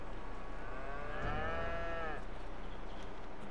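One long, drawn-out cow moo from Farming Simulator 22 over a steady background hum, fairly close and clear, with no talking.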